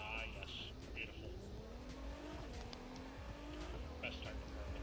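Race car engine in The Crew 2 video game drones and shifts pitch steadily with rising revs, with brief tire squeal bursts, while people talk over it throughout.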